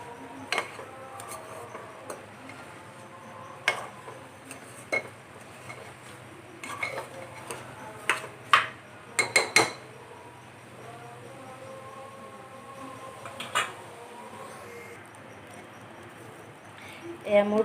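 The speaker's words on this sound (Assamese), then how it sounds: "চাউলখিনি মই ঘিখিনিত ভালদৰে অকণ সময় ভাজি ল'ম।" Rice frying in ghee is stirred in a pot on a gas stove, with scattered metal clinks and scraping strokes, some in quick clusters, over a faint low kitchen hiss.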